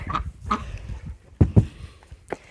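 Rooster and poultry on a garden farm, a few short clucks and squawks spaced irregularly, with a couple of louder close calls near the middle, no talking.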